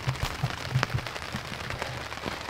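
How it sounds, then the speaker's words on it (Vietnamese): Rain patters steadily on a campsite tent at seven in the evening, a dense, even wash of drops with a few sharper taps on the fabric, fairly close and continuous. "7 giờ tối mà nó cứ mưa như vậy bạn"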